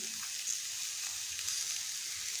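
Mixed vegetables with ketchup are stirred in a hot pan, giving a steady, close sizzle that runs unbroken throughout with no talking.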